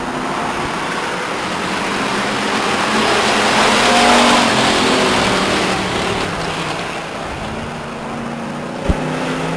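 Pure stock race cars thunder around Stockton 99 Speedway, engines swelling into a loud, sustained roar as the pack passes and then fading slightly, with a sharp knock near the end.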